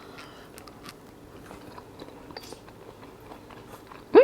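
Soft close bites and chewing on pickled potato from a Haidilao instant hot pot, with quiet crunchy clicks and mouth sounds scattered throughout, ending in a sudden louder burst.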